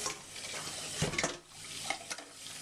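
Water runs steadily from a tap into a kitchen sink at close range, with a few clinks of a container or dishes knocking against it.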